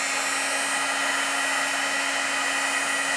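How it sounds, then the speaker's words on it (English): A heat gun blasts a steady, loud, even whoosh with a faint underlying hum, held unbroken throughout while heat-setting embossing powder on a marker-drawn masked window card. "Turn on the heat gun, and we're going to heat set from the bottom so it doesn't blow out our heat embossing powder."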